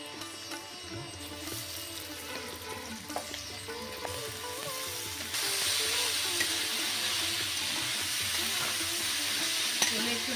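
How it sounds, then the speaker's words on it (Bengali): Chopped vegetables fry in oil in a kadai and are stirred with a spatula, giving a soft, close sizzle with scraping stirs that turns into a louder, steadier hiss partway through. "একটু নাড়াচাড়া করে নিচ্ছি।"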